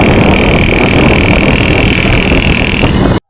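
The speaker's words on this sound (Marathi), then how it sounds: "भावानं सायलेन्सर कसा वाचतोय सांगा" A loud, close motorcycle exhaust roars steadily with a rough, throaty rumble, then cuts off abruptly.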